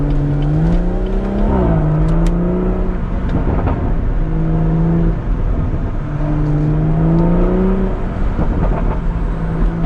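BMW M140i with a resonator delete, engine and exhaust revving loudly through rising and falling gear pulls, a deep droning note sweeping up and down with brief crackles between shifts, close and continuous.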